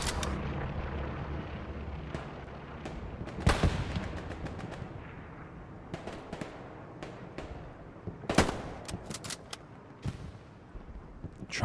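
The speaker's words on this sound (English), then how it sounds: "Trying to sink those shots in between the trees." Scattered gunfire in Hell Let Loose, an infantry match on the Hurtgen Siegfried Line map: sharp single shots and short bursts ring out at varying distances over steady battlefield ambience, with a few louder near cracks.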